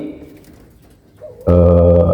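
A spotted dove (tekukur) gives a loud, close, sustained coo that starts abruptly after a quieter stretch of faint background murmur.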